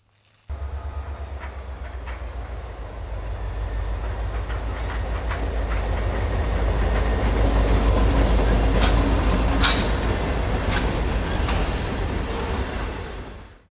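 A train rolls along railroad tracks beside a gate in an urban hog-control setting, a loud continuous rumble of wheels and railcars with a rhythmic clatter, building steadily and holding close for the whole stretch, with no talk.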